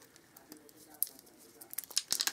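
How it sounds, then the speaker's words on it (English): Plastic shipping wrapper being pulled and torn off spray bottles, faint crinkling at first that builds into a quick run of sharp crackles and rips near the end. "I'm just taking the wrapper off."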